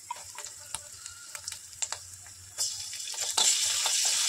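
Fish bait of cheese and rotten coconut fries in a pan with soft, crackling sizzle and scattered ticks, the sizzle swelling louder and denser toward the end.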